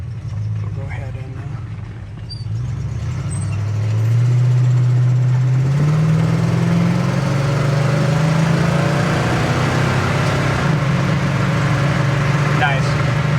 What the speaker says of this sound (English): With that 2-speed power glide just taking off, we did like a roller takeoff.